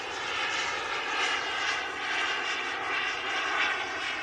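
BVM T33 model jet flying at full throttle just after takeoff, a steady loud turbine whine and roar that swells and fades slightly as it passes, heard alone.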